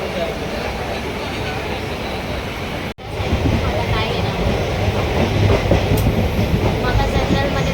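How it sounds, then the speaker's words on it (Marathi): A train pulling out of CST station rumbles and rattles steadily close by, with a brief dropout before the clatter resumes slightly louder and continues evenly. "CSTवरनं ट्रेन निघाली आमची"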